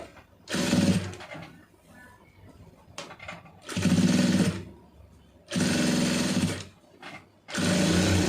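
A tailor's sewing machine stitches stacked pieces of cloth in four loud, steady bursts, each lasting about a second or more, separated by quieter pauses with faint background noise.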